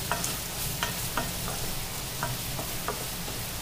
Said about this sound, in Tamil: garlic powder இதெல்லாம் நல்லா ஃப்ரை பண்ணிக்கலாம்